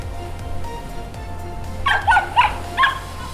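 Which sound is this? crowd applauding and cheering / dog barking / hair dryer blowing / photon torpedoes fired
dog barking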